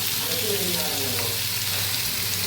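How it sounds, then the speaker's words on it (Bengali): Spiced food fries in a pan with a steady broadband sizzle, faint stirring and a low hum under it, continuous and fairly close throughout. "ভালো করে এটা ফ্রাই করে নিতে হবে"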